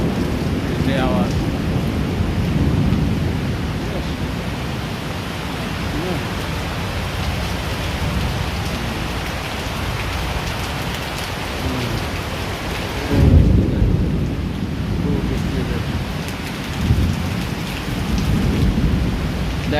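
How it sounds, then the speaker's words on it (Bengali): Heavy rain pours down at night in a thunderstorm, a dense steady roar of water with deep rumbles of thunder rolling through, one louder crack near the middle; someone speaks briefly under the downpour. "কি বিজলি বৃষ্টি, এই যে পানি পড়তে আছে, আহা।"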